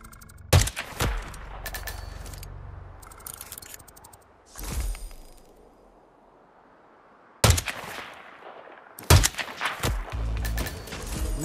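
Sharp gunshots ring out in Hitman 3 on a Siberian level: a handful of separate loud cracks spread across the stretch, each trailing off into a quiet, hissing background.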